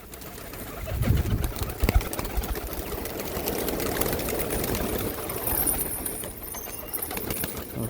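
Domestic pigeons let out from a rooftop coop, soft flapping wings and cooing close by, with light clattering and rustling around them and no voices.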